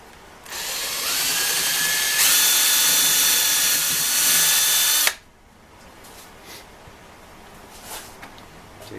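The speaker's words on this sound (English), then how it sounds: "I'm going to drill another hole." A power drill bores a hole through the lining of a transmission band on a 1925 Ford Model T. It gives a steady high whine for about five seconds, rising in pitch partway through, then cuts off into quiet room noise.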